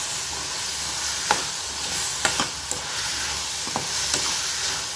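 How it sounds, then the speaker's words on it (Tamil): Onions and tomatoes sautéing in a pan for paneer butter masala, a steady close sizzle broken by a few sharp stirring scrapes, with no talking. "இப்போ நல்லா வதங்கிட்டு தக்காளியும் ஓரளவுக்கு குழஞ்சி வதங்கி வந்துருச்சு பாருங்கள்"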